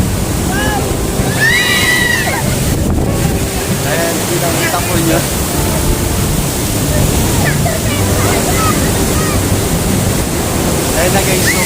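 Heavy surf at Patar Beach in Bolinao, Pangasinan roars steadily and close, a constant rush of crashing water, with a voice faintly audible beneath it.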